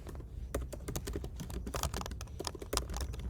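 Fingers type on a computer keyboard in quick, irregular bursts of clicking keys, close and fairly quiet, with no talking.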